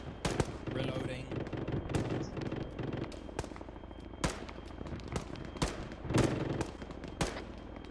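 Airsoft or military-simulation gunfire rings out as a squad takes fire, with repeated sharp shots and short bursts spread steadily over several seconds, some close and loud, with occasional talk between them.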